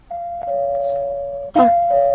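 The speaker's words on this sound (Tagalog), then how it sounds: "Kinsa mo karong nag-doorbell?" A doorbell chimes twice, a sustained electronic tone followed by a second ding after a short gap, clear and close with no voices.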